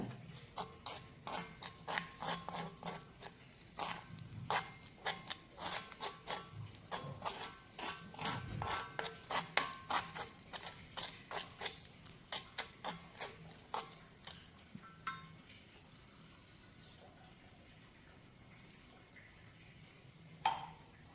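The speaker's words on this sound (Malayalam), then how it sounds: "കട്ടയൊന്നുമല്ലാണ്ട് നന്നായിട്ട് തന്നെ മിക്സ് ചെയ്തെടുക്കുക" Black henna hair dye paste being mixed in a bowl, a run of rhythmic clinking, scraping strokes close by that thin out into quieter ambience after about fifteen seconds.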